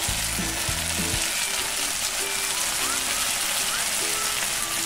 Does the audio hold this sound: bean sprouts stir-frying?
yes